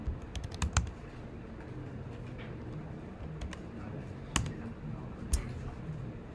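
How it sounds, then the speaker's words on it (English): Keys on a computer keyboard click in short bursts with pauses between them, a few sharper taps standing out, close and fairly quiet with no voice over them. "Wait, I'm typing this in the wrong place."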